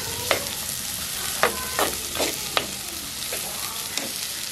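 Mutton fat fries in a little oil in a pan, giving a steady background sizzle broken by several sharp scraping clatters as a spoon stirs it, close and fairly quiet with no voices.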